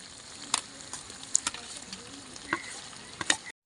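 Chicken kosha frying in a pan as fried potatoes are added, a low soft sizzle broken by a few sharp clinks and scrapes of stirring, with no talking.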